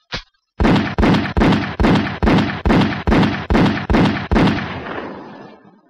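Ten evenly spaced gunshots ring out one after another in a public service message about gun violence, each loud sharp bang decaying quickly, preceded by a single faint click and ending in a fading tail.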